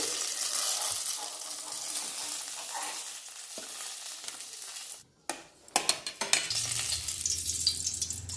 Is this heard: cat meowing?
no